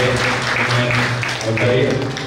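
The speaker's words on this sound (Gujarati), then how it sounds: "જોરદાર તાળીઓથી આપણે" Crowd applause at a public felicitation event in Bhanvad, Gujarat, a dense clatter running throughout with a voice speaking over it.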